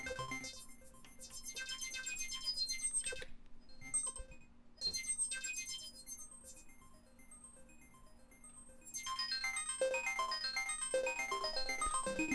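A synthesized, digital dial-tone-style effect with bright stacked tones that hold steadily, drop out briefly, then return louder over a low sustained drone, with no talking.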